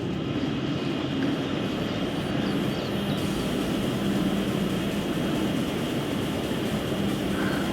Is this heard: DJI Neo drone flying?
yes